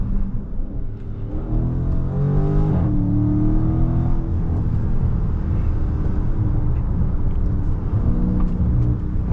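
A Dodge Challenger Scat Pack widebody on upgraded 315 tires runs through a sustained, loud engine rumble with shifting pitch bands as it downshifts, heard from inside the car with no talking.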